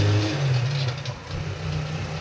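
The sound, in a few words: motorcycle engine revving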